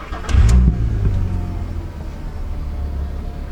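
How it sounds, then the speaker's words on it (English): An Audi TT engine catches with a brief crank and rev, then settles into a steady idle hum, close and moderately loud. "start the car."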